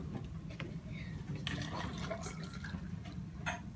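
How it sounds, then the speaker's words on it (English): Sandy water poured through a funnel during a soil water-holding science demonstration, a soft continuous trickle and splash with a few brief drips, faint against room noise. "And you pour the sandy water in there,"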